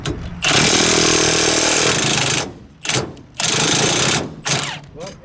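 Milwaukee M18 1/2 inch cordless impact wrench hammers loudly on bolts in a breakaway test, two long bursts of rapid rattling impacts separated by short pauses, then a brief final burst.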